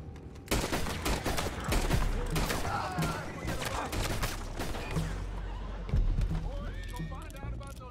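Horses whinny and hooves clip-clop amid scattered gunshots in a busy Red Dead Redemption 2 game scene, with voices talking over the mix.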